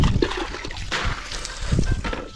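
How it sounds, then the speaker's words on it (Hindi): Hot water splashes and trickles over a KTM motorcycle frozen in -10° cold at Patnitop, with irregular splatters and pours at close range. "पूरी बाइक को धुला धो देते हैं गर्म पानी से,"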